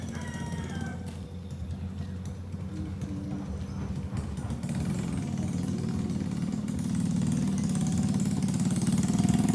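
A motorcycle engine idles with a low, steady chugging rumble that grows slightly louder toward the end.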